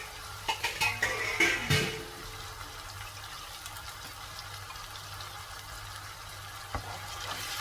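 Raw onions frying in oil for a paneer gravy, with a few clattering stirs of the spoon against the pan early on, then a quiet, steady sizzle that continues with an occasional scrape.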